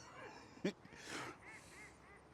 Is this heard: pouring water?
no